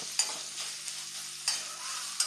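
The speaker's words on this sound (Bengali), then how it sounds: "পেঁয়াজটাকে একটু ভাজা ভাজা করতে হবে।" Chopped onions sizzle in hot oil in a pan with bay leaf, panch phoron and split dried chillies, while a spoon scrapes and stirs in a few distinct strokes over the steady frying hiss.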